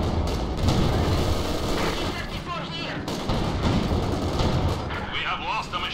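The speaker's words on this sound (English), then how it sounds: "Artillery fire! Take cover!" Artillery fire in the Company of Heroes 2 game, with rumbling booms and bursts of gunfire rolling together loudly and continuously, and voices shouting over the battle noise.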